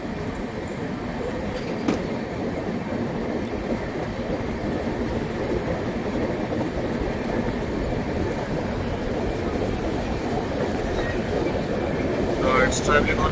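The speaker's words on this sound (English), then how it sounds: "Some work is going on the track, and the train is moving to the curve." A passenger train rounds a curve on the Jaipur to Rewari line past track works, giving a steady loud rumble of wheels and carriages throughout, with brief metallic squeals near the end.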